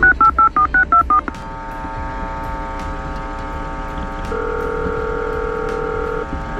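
Phone keypad dialing, six quick loud tone beeps in a row, then a steady engine hum as in a moving vehicle, with a long two-tone ringback or line tone sounding later.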